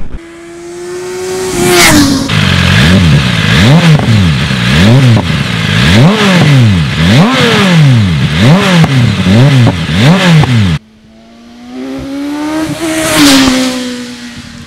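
A BMW S 1000 RR motorcycle revs hard through its exhaust, loud and close, the engine note climbing and falling in repeated blips and sweeps, then a short cut before another rising, howling rev.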